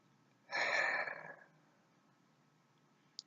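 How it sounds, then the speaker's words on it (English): One deep breath drawn in through the mouth, a single close, breathy inhale lasting about a second in an otherwise quiet room. "Now take a deep breath."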